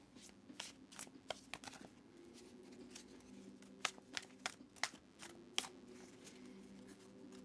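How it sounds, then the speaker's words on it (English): A tarot deck being shuffled by hand, a run of quiet papery riffles and sharp card snaps at an uneven rhythm, close and soft, over a faint low hum. "I'm going to go ahead and give the deck a good shuffle for you"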